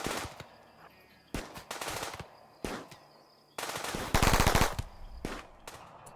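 Bursts of submachine-gun fire and single gunshots in the RimWorld video game, several separate volleys with short gaps between them, the loudest and densest burst landing near the end, with no voices over it.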